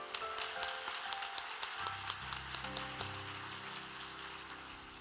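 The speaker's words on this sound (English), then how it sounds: "And give them a round of applause." Round of applause at a Southland winter jazz concert, scattered sharp claps over a sustained musical backdrop, moderately loud and irregular, with low tones entering partway through.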